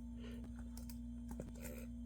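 Keys clatter on an old 2004 Acer laptop running Windows XP, a few faint, irregular clicks over a steady low electrical hum.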